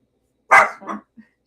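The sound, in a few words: dog barking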